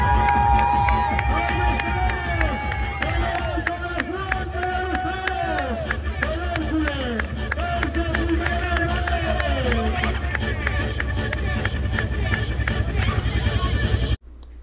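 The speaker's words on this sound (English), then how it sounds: "This was a video taken by one of my roommates of the crowd below our apartment, and it was bumping." A large street crowd celebrating the Hercules football championship, heard from an apartment above, with dense voices, shouts and chanting, rising and falling tones, and continuous loud babble that stops abruptly at the end.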